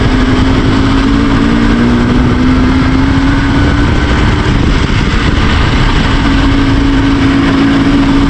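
A tuned IZh Jupiter 4 motorcycle engine runs while riding on a winter road, giving a loud, steady, unbroken drone with a constant engine tone throughout and no voices.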